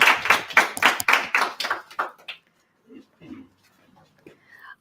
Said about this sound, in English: let's give a round of applause for Kaya and Sela